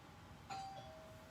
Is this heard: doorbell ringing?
yes